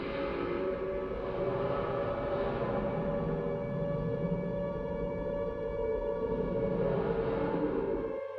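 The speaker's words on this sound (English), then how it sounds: "there are sirens again" Sirens wail in the hospital level of the video game Silent Hill 2. The droning, layered tone holds steady and loud for about eight seconds, then cuts off abruptly.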